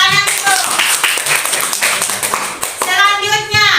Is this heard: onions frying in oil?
no